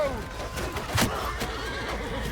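A horse whinnies sharply in the game Mount & Blade II: Bannerlord, one loud neigh amid ambient background sound.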